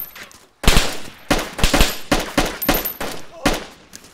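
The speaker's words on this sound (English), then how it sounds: "Well, I got shot by a Mosin." Mosin rifle fire in an online survival shooter, a rapid series of loud, sharp cracks echoing close by, about a dozen shots in quick irregular succession.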